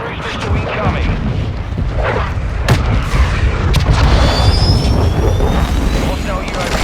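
A cruise missile strike in Call of Duty Modern Warfare 2 rumbles in as a heavy, loud roar with booming impacts, a sharp crack midway and a swelling jet-like whine, dense and sustained throughout, with no voices.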